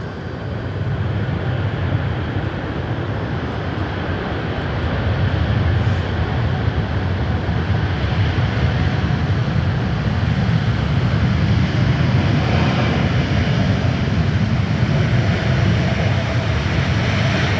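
A Qantas jet takes off at Sydney Airport, a loud, sustained engine roar building gently and holding strong for the whole stretch, with no one talking.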